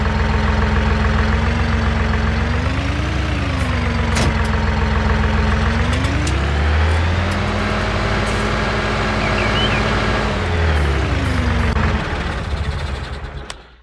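Heavy tractor engine in Farming Simulator 19, a loud continuous diesel drone that rises and falls in pitch as the load changes, close and alone before fading out at the end.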